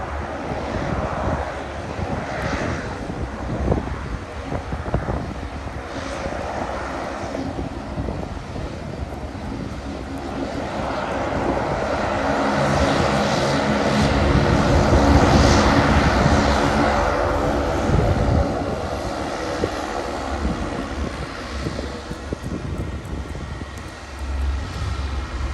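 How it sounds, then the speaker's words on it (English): A Saab 340 turboprop airliner on a Sydney–Canberra route passing an airport viewing spot, a steady engine drone that swells to a loud peak mid-clip and then eases, with some wind buffeting the microphone. "these are the Saab 340 turbos, and that does flights between Sydney and Canberra"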